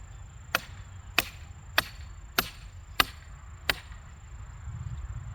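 A small tree split for fence posts gives six sharp, evenly spaced cracks and snaps as the wood separates, close and distinct over a low outdoor rumble.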